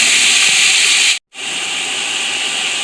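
Mutton with green chillies and spices fries in a pot, giving a loud, steady sizzling hiss that breaks off briefly and then resumes without talk.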